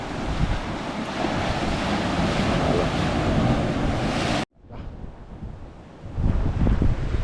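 Big ocean waves crash and roar on Bhandarpule beach near Ganpatipule, a loud continuous surf wash mixed with gusty wind on the microphone, cut off briefly before the swell returns.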